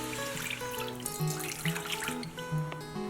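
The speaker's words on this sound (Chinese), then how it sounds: "锅内倒入200克的水" Water is poured into a cooking pot for simmering lemon slices, giving a short, close splashing stream with gurgles under a constant tonal background hum.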